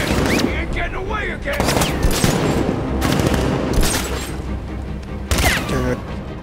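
Loud, dense video game gunfire in Batman Arkham Knight, with rapid automatic bursts and heavy impacts repeating close up throughout.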